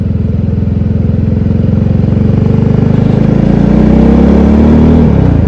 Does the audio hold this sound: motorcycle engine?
yes